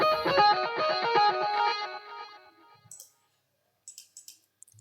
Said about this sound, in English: I've added a kind of I've added reverb and delay